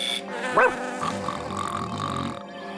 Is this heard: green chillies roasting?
no